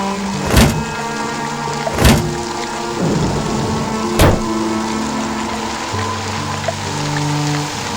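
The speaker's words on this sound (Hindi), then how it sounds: "आसमान में तेज बिजली कड़की और बारिश जो थोड़ी थमी थी, एकाएक फिर झमाझम बरसने लगी।" Steady heavy rain with sharp thunder cracks striking three times, loud and close, while low tones hum underneath.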